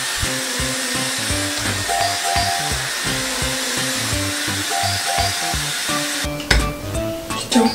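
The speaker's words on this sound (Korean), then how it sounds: "이제 머리를 말려." A hair dryer blows on hair in a steady loud whoosh, with a pulsing, uneven hum as it moves, and some brief clatter near the end.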